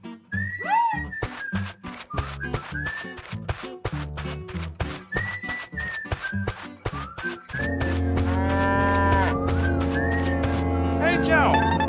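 A cartoon cow moos in stretched, wavering calls mixed with whistle-like tones over a busy, rhythmic musical backing, with a fuller, denser music section near the end.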